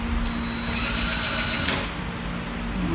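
A hand drill runs continuously and loudly, wobbling as it bores in a workshop: a steady close motor whine with a slight pitch shift partway through, no speech.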